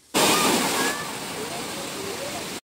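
Clear water flows steadily at a cave temple near Katra, a broad continuous rush that starts abruptly, sits close and fairly loud, and fills the clip without pause before cutting off.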